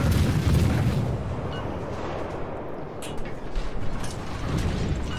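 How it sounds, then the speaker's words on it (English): Torpedoes launching from a destroyer in World of Warships, a dense mechanical whoosh and rumble with low booms, continuous and loud throughout with a brief burst of sharper clatter midway. "Torpedoes."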